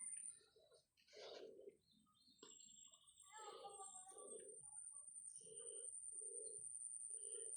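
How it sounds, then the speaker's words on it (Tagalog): Several birds call around a small farm with a fish pond, soft repeated cooing like doves mixed with brief chirps and a thin steady high trill, fairly quiet and near, with no talk. "Kasi madaming ibon."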